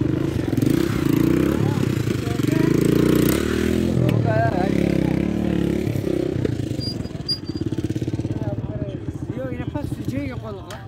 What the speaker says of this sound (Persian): عزیزان دل دیدین که نفرها موتورسیکل بالا شد.